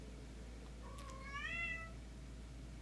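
A pet cat meows once at a door, a single clear drawn-out call rising and falling in the middle of an otherwise quiet indoor room, soft and slightly distant.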